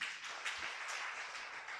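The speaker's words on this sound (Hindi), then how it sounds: "ताली बजाओ।" Audience applause filling a hall during a talk by a senior Rajyoga teacher, a dense, steady wash of many hands clapping, with a brief surge near the middle, and no speech over it.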